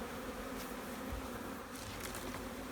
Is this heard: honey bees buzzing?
yes